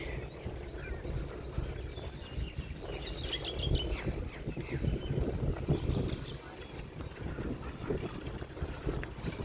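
Cool wind blows steadily outdoors, a continuous broadband rush with gusty swells and rumble across the whole stretch, with no talking.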